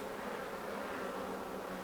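Honey bees swarm over opened hive frames during an early spring inspection, a steady, even droning buzz from many insects close by, with no voices.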